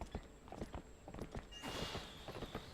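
Horse hooves clip-clop at a steady walking rhythm in The Legend of Zelda: Twilight Princess HD, soft and even, with a breathy snort or whinny partway through.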